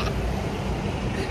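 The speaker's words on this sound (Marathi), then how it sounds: "ट्रॅफिक बघताय. जबरदस्त ट्रॅफिक आहे." Heavy road traffic rumbles steadily, a continuous low engine drone from many vehicles with no distinct passes, close and constant throughout.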